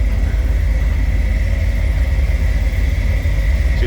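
A 1968 Chevrolet Corvette convertible with a 327, 300-horsepower V8 idles close by, a loud, steady low rumble with an even, lumpy rhythm and no talk.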